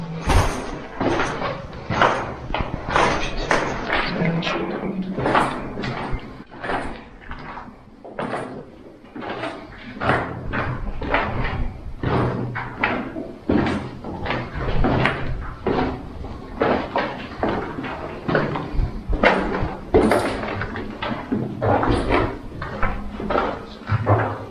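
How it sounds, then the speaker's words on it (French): A door bangs again and again in a retirement home left abandoned for over 30 years, with repeated knocks and slams in an uneven rhythm, close by and hollow, while people talk quietly in between. "Ça doit être la porte qui fait rien."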